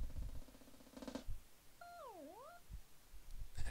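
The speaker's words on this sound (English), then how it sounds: "Olivier's cat." A cat meows once in a clear, falling-then-rising cry, fairly quiet, set among brief bursts of video game sound effects in a Super Mario game.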